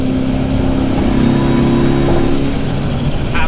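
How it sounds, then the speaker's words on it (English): Big-turbo car on a highway at half throttle: a steady, loud engine drone with rising boost whoosh as it gathers speed, heard from inside the cabin with no talk. "I want to give a little bit of gas."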